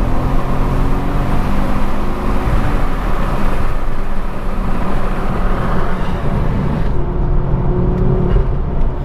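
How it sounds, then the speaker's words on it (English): Inside a moving Ford Focus RS Mk2 fitted with a Mountune intake and filter, a steady engine and intake drone runs under road noise, fairly loud and continuous throughout. "You get so much intake noise as well. Even standard, you get a nice chunk of intake noise."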